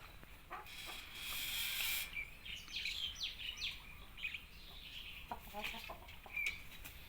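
A young seven-month-old rooster clucks and calls nearby while small birds chirp around it, with a steady outdoor hiss in the background.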